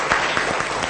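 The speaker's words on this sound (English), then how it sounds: "Clap for him." Classroom applause for a student in an English teaching session, a short burst of many hands clapping together, close and lively, with no talk.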